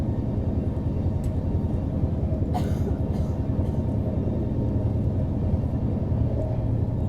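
Steady low rumble of the Lucknow Swarna Shatabdi express train running at speed, heard from inside the carriage as a continuous, even roar with no talking.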